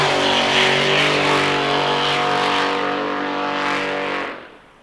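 Racing powerboat engine from the Rival Marine hull, running at Windsor Spectacular practice, a strong steady harmonic roar held close and loud, then fading quickly away at the end.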